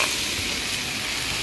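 Shrimp hit a hot pan with garlic and ginger, giving a loud steady sizzle and hiss of frying that runs unbroken from start to finish, with no voices.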